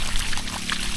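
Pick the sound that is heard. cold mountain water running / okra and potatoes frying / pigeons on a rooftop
cold mountain water running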